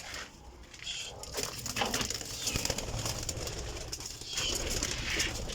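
Pigeons coo softly in repeated low phrases on a rooftop loft, with rustling and faint wing flutters mixed in, moderately close and steady.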